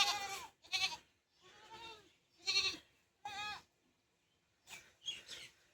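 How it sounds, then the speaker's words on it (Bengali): Goats on a small farm bleat several times, with about six loud, wavering calls in quick, irregular bursts, close by, with quiet gaps between them. "আর এই যে আমার ছোট্ট একটি খামারের ছাগলগুলো"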